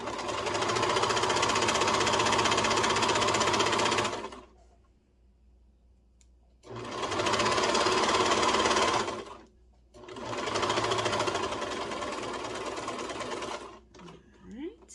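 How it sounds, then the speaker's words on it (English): A cover stitch machine hemming fabric runs in three fast, steady bursts, loud and close, with short pauses between them and a voice speaking now and then. "I absolutely love my cover stitch"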